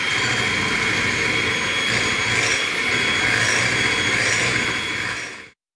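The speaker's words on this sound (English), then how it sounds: "let's whisk these to stiff peaks" Chocolate mousse mixture being whipped to stiff peaks gives a steady, loud whirring whine that runs without pause and then stops abruptly at the end.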